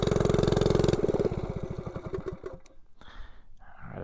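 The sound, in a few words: 98cc Rascal mini bike engine idling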